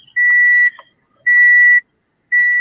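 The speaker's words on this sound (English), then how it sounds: "You can hear beeping from your side." Three loud, evenly spaced electronic beeps, each about half a second long, cut in on a phone call line, with silence between them.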